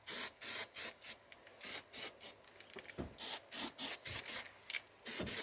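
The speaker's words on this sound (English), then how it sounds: "Well, it sprays nicely, that's for sure." An aerosol spray paint can hisses in rapid, regular bursts of about half a second each as paint is sprayed onto a car's floor pan during a restoration, loud and close.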